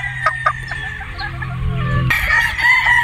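A Boston Roundhead gamefowl rooster crows loudly and close by, with a few clucks before the crow and bright ambient noise around it.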